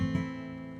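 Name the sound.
A major chord strummed on guitar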